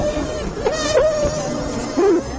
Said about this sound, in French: Des experts du Wellesley College ont enregistré les signaux d'alarme d'abeilles au Vietnam